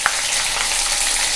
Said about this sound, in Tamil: இப்போ நல்லெண்ணெய் விட்டுண்டு கடுகு போட்டிருக்கேன்.